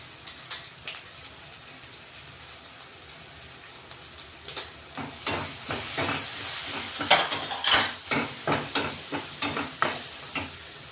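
Spiced fresh green chickpea curry being stirred in a pan with garam masala and chilli powder, a spoon scraping and sizzling in a steady series of close, rhythmic strokes that grow louder midway, with no talking.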